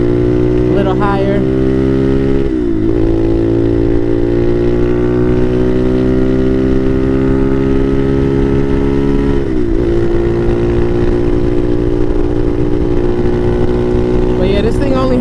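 A Bashan Motomax 250 motorcycle fitted with a Nibbi PE30mm carburetor drones loudly at steady cruising revs, with a few brief dips and pickups as the rider shifts, and wind noise throughout.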